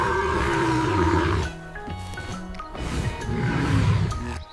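Baby elephants call out in grassland, with loud, drawn-out roaring and rumbling cries, a brief lull, then another rising bellow.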